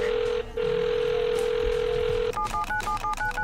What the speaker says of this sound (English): I'm gonna phone them and have a conversation with them